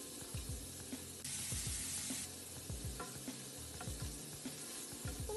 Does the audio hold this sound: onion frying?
yes